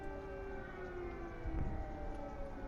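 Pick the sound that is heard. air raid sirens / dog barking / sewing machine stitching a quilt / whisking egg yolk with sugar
air raid sirens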